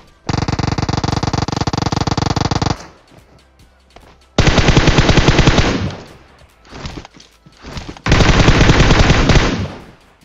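Automatic gunfire in a battle royale game: three loud, close bursts of rapid rattling shots separated by short pauses, with softer scattered shots in the gaps.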